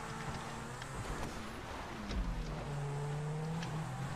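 Zentorno supercar driving fast off-road in GTA 5, its engine a steady, moderately loud drone with shifting pitch as the car revs and bounces over rough ground.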